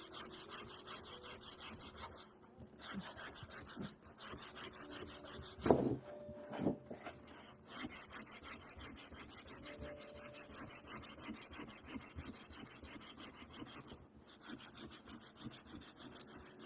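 Sandpaper rubs steadily across the inner surface of a thin wooden Shaker box band, a continuous close scratchy hiss with brief pauses and a few knocks as the band is handled.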